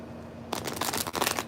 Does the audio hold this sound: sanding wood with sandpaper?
no